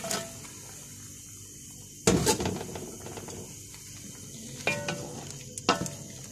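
Pieces of cod simmer in a pot of okra sauce, giving a soft steady bubbling and sizzle broken by sharp spoon-and-pot clatters, first loud near the start and then again in shorter bursts toward the end.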